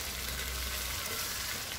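A paste of tomato, onion and chili sizzles and bubbles in a pan, a steady close frying hiss with no voices over it.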